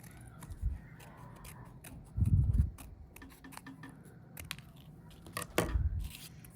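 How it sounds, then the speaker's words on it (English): Scissors cut a circle from a paper pattern with a run of quiet, close snips and crisp paper crunches, spaced irregularly with a few louder bursts. "I'm just going to cut a circle out of one of my patterns."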